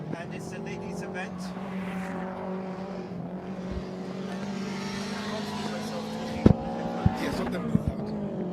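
Rallycross race cars in a ladies' event at Machakos People's Park, their engines droning and revving steadily, with sharp tire bursts near the end, while people talk over the racket.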